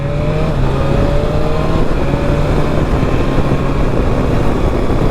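A 2020 BMW S1000XR motorcycle shifts up through the gears with its quickshifter, the loud engine note climbing and then dropping sharply at each clean shift, close and continuous with no talk.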